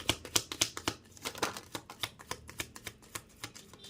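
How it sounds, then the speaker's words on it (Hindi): Tarot cards being shuffled, a quick run of crisp riffling snaps and flutters at close range, quiet and evenly spaced. "ये लास्ट शफल है"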